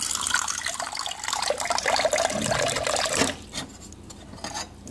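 Tap water runs and pours steadily into a handmade clay cup, a continuous close splashing fill that cuts off abruptly partway, leaving quieter drips and small trickles.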